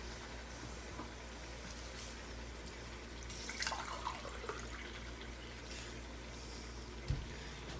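Water pours into a pot of rice for matar pulao in a steady, faint splashing stream, with a few brief drips and clinks, and no voices.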